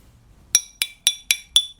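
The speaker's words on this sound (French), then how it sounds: "Ça, c'est le son d'un grès cérame" Five sharp, bright taps on a porcelain stoneware tile, evenly spaced, each a short high clink that dies away fast.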